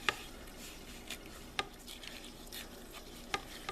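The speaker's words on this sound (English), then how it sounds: "I'm just going to kind of give it a quick stir" A spoon stirs chicken stroganoff with thyme and several pieces of meat in a pan, giving soft scraping and a few sharp clinks against the pan over a low, steady background.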